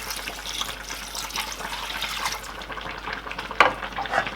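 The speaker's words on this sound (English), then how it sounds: "we'll add more water in the pot" Water poured into a pot of cooking shaki (beef tripe) for Nigerian banga rice, a steady close liquid splashing and bubbling that fades after a couple of seconds, followed by a few sharp clinks near the end.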